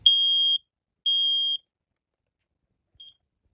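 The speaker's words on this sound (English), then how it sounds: "This is a EI carbon monoxide alarm" An EI carbon monoxide alarm sounds two loud, piercing half-second beeps about a second apart, followed by a faint short chirp after a pause, all clear and close with nothing else around them.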